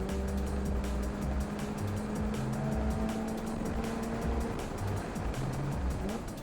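Subaru BRZ tS engine pulling hard on the Laguna Seca track, a steady loud drone with a gear shift partway through, heard from inside the car with road roar and wind underneath.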